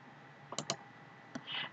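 A few sharp computer mouse clicks, a quick double click followed by a single one, close and dry against a quiet background.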